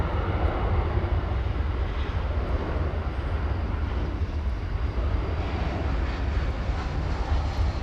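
An American Airlines wide-body airliner passing at DFW Airport, a steady, loud roar of jet engines that holds throughout.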